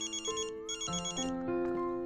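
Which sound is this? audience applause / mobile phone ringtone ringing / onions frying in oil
mobile phone ringtone ringing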